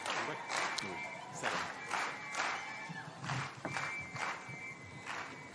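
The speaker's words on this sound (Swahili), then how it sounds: "Tupikie makofi ya kilo moja." A crowd claps in irregular bursts as the president is welcomed at the commissioning of a cement clinker plant in West Pokot County, with faint voices mixed in.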